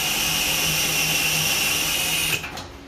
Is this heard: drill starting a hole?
yes